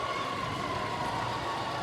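A fire truck siren wails steadily and loud without a break at the scene of a fire in Tondo, Manila, with traffic rumble underneath.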